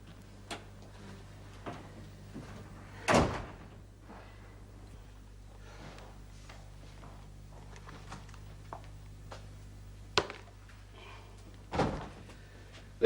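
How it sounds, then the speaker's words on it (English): Several sharp door thumps and clicks, like a door shutting and a lock turning, come through quiet room tone, with a louder knock near the start and two more toward the end. "You'd better lock the door after me."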